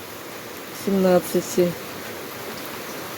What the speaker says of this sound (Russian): Дождь. Ливень.